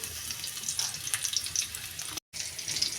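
Food frying in a pan during home cooking, a steady close hiss and crackle of sizzling oil that runs continuously, broken only by a brief dropout.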